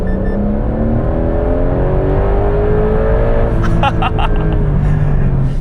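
A Porsche 911 GTS T-Hybrid with an electrically driven turbocharger revs hard under throttle, a loud continuous engine note sweeping up through the gears, heard from inside the car.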